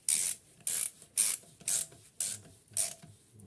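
Ratchet wrench tightening the rocker shaft nuts on a Triumph Spitfire MK3 engine cylinder head: six quick, loud bursts of rapid clicking, evenly spaced with short pauses between, close to the tool and without any voices.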